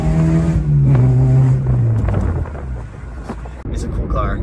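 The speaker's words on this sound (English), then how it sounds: "Coworker got a new car. We took a little drive." A coworker's new car on a short drive, its engine droning steadily with a low tone that drifts downward, mixed with road rumble and wind noise heard from inside the cabin.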